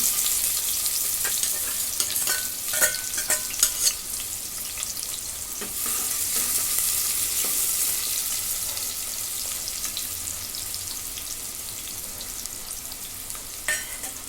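Chopped onion frying in hot oil inside a pressure cooker hisses steadily up close, with intermittent scraping stirs and clinks over a continuous sizzle.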